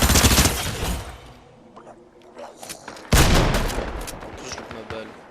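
Loud bursts of automatic gunfire from the video game Fortnite crack out in rapid fusillades at the start and again after a short quieter stretch, with scattered single shots between.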